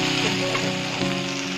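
Chopped tomatoes fry with chilli and garlic in a pan for prawn curry, giving a steady close sizzle with faint crackles throughout.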